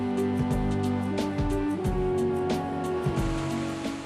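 A waterfall in a Norwegian fjord pours steadily with a dense, continuous rush of water, while sustained low tonal sounds run underneath throughout.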